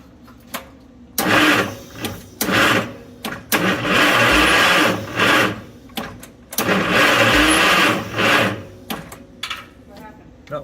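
The engine of a Mighty Midget Mobilift forklift, primed with starting fluid, cranks in several close, loud bursts of a few seconds each, separated by short pauses, and never catches; the starter whirs and churns.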